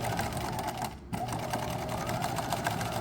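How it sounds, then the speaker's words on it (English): Sewing machine stitching a backpack seam over cording, running steadily forward and back with a dense rapid needle rhythm, briefly pausing near the one-second mark before resuming, close and fairly loud. "you're going to sew forward, back stitch"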